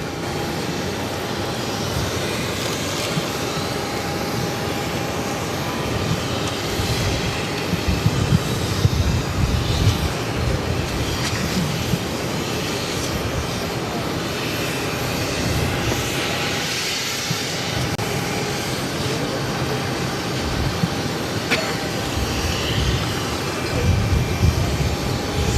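An Airbus A330-200 airliner taxiing for departure at Boston Logan, its jet engines producing a steady, loud rumbling whine that swells slightly midway, heard alone without talk.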